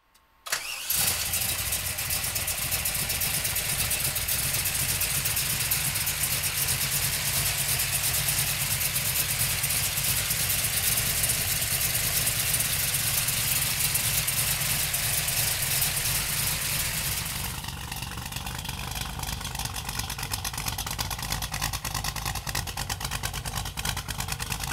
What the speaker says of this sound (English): We're gonna pop the hood and fire it up.